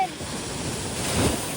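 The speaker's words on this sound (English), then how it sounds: "When we came, the waves are big" Ocean waves break on a beach with a steady broadband wash of surf and wind rumble, one wave building and cresting louder near the end.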